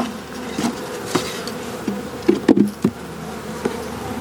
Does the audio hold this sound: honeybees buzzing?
yes